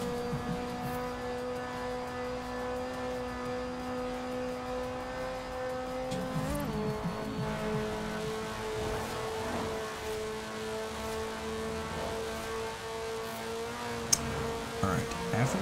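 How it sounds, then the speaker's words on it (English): Race car engine in Forza Horizon 4, heard from the inside, holding a steady drone with a brief shift in pitch partway through, continuous and fairly loud over background noise. "Full blown race car."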